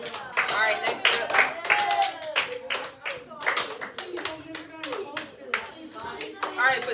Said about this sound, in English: Clap it up for who? Levi.